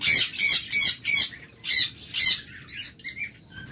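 Pet birds kept for sale squawk loudly and close by in a run of about six harsh, evenly spaced calls, followed by softer, scattered chirps.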